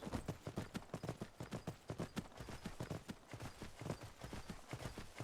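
Horse hooves in the video game Skyrim clop along in a steady, brisk galloping rhythm while riding, continuous and fairly close, with no one talking.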